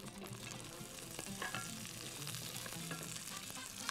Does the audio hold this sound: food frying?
yes